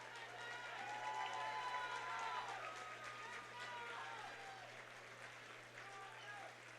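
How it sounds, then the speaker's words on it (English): A crowd at a combat-sports fight event applauds the two fighters, a faint, distant wash of clapping and cheering running under a voice speaking over the arena sound. "how about a round of applause for 2 great fighters?"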